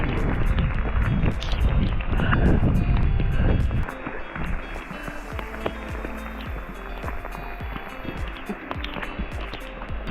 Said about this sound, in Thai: ตอนนี้ฝนตกลมแรงมาก หนาวแล้วฝนหนักมากหนาว